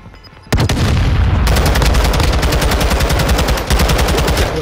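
Rapid bursts of loud automatic gunfire in a shooter game start abruptly after a quiet moment and keep hammering in a fast, continuous rhythm with heavy booming impacts.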